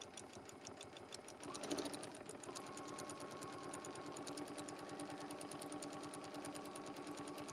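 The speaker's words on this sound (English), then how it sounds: "put my needle down, and stitch a straight stitch around here" A sewing machine runs a straight stitch around an appliqué, a fast, evenly pulsing needle rattle that holds steady throughout, faint and close, with no talking.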